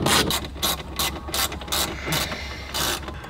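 A hand ratchet clicks in quick repeated bursts while backing out 7mm screws from a Ford Bronco dash radio, close and fairly loud, with short pauses between strokes.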